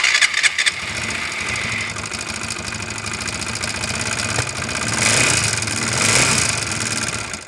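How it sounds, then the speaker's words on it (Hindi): A TVS Apache 160/180 motorcycle engine runs before being dismantled, starting with a few sharp bursts and then idling steadily with a knocking mechanical rattle, revving up slightly near the end. "ये जो इंजन है उसकी खोलने से पहले की जो साउंड है वो सुन लीजिए"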